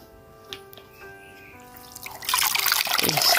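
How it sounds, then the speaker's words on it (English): Fresh water is poured over a coconut husk to rinse it, a few faint drips giving way to a loud, close rush of splashing liquid. "what we want to do is just to pour it over to rinse it"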